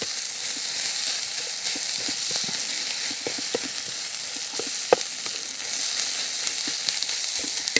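Corned beef hash fries with a constant close sizzle while spices are stirred through it, bringing soft, scattered scrapes and clicks of the utensil against the pan.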